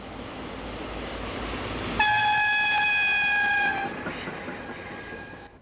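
A train rumbles along the Rhine railway through a hilly river valley with a steady low roar, then a long loud horn blast sounds partway through before fading back into the rolling noise.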